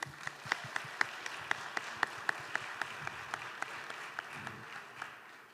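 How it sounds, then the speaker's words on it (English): Applause from an audience at an evening showcase event, steady dense clapping throughout with a few sharper individual claps standing out, moderately distant and fairly quiet. "Let's give them one more round of applause."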